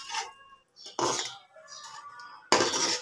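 Spoon scraping and clinking against a pot while shaljam gosht curry is stirred, several short metallic clatters in quick bursts separated by brief pauses, close and fairly loud.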